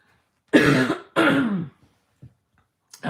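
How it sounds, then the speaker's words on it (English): Two harsh, close throat-clearing coughs come in quick succession, followed by a few faint small noises in an otherwise quiet room. "I know it sounds nasty when I cough."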